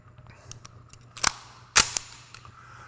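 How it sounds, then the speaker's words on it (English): Pistol shots at a shooting drill, two sharp, loud reports about half a second apart, each with a short ringing tail over a faint background hum. "I'm going to attempt to fire at the same pace with a pistol in the left hand"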